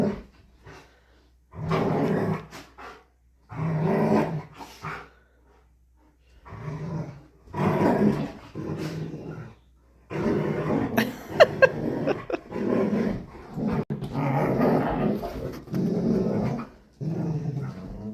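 Dogs play indoors and let out bursts of deep, rough growling, several seconds each and separated by short pauses, close by and fairly quiet.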